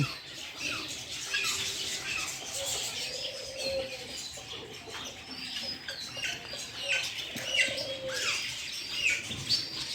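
Turkeys, ducks and local chickens call nearby at an eco park, with repeated squawks and chirps over a busy background of birds.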